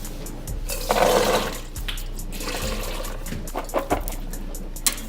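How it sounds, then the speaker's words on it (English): Water is poured into a kitchen strainer, giving a close splashing gush that swells and then trickles off into scattered drips and small clatters. "Pour that into the strainer."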